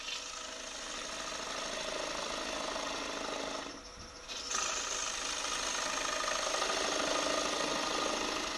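A wood lathe spins a bowl blank while a bowl gouge, bevel rubbing, slides in toward the centre: a steady, loud mechanical whir and cutting hiss that drops briefly near the middle, then resumes.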